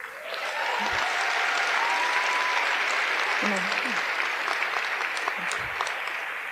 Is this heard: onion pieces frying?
no